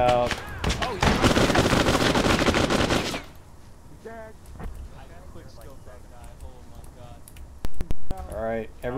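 Rapid machine-gun bursts and scattered rifle shots in a World War II battle at Kursk within a war game, loud at first and then sporadic and more distant, with voices talking over the later shots.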